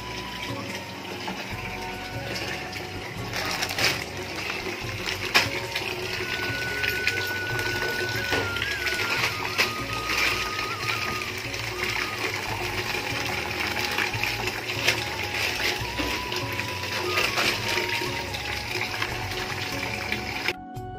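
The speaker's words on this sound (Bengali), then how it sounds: "সেই জামা কাপড়গুলো আমাকে কেচে উদ্ধার করতে হবে" Clothes being hand-washed in a tub of iron-rich, reddish water, giving steady sloshing, rubbing and splashing with scattered clinks and drips across the whole stretch, close by and without talk.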